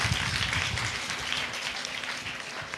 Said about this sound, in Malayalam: എല്ലാവരും ഒന്ന് നല്ല കൈയടി കൊടുത്തേ